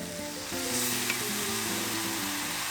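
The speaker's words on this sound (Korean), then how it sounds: "고춧가루 2스푼 넣고 골고루 볶아주세요" Spicy fish cake stir-fried in a pan with soy sauce hisses in a continuous sizzle, partly covered by steady background music.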